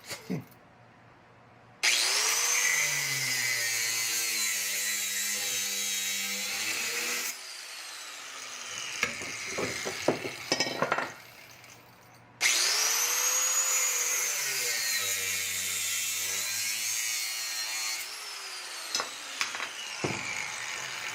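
A metal piece is cut beside a vise during a high-heeled shoe chair trike build: two long, loud, steady bursts of power cutting, each several seconds, separated by a pause filled with clanks and handling knocks.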